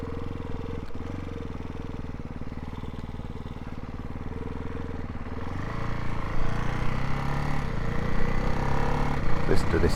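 A Ducati Hypermotard 698 Mono RVE single-cylinder engine runs steadily and loud up close, its pulsing thump rising in pitch and intensity toward the end as it revs.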